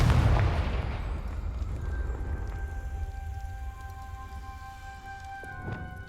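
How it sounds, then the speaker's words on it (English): A Confringo fire spell blast in the video game Hogwarts Legacy opens with a heavy low boom that fades into a long rumbling, crackling tail. Sustained magical tones hang over it, and a faint second thump comes near the end. "Confringo!"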